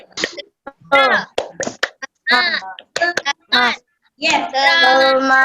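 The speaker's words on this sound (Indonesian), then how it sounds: "Ya, tepuk semangat." Children in an online primary-school class do a rhythmic spirit-clap routine, chanting loudly in short bursts with sharp claps between the phrases, all heard up close.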